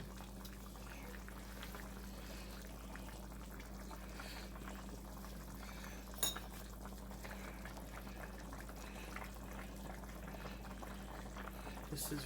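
Oxtails simmering in a pot on the stove, a steady low bubbling broth with a constant hum underneath and a faint clink near the midpoint, continuous and quiet throughout.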